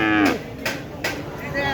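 Cattle low loudly and close by at the Baneshwar cattle market in Puthia, Rajshahi, one drawn-out moo followed by shorter calls in quick succession.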